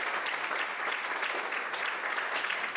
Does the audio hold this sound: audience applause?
yes